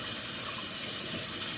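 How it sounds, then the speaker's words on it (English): Water runs steadily through the nozzle of a Miops water drop splash kit during cleaning, making a continuous, even hiss and rush of flow with no breaks or voices. "You can see it just pours right through and cleans it out."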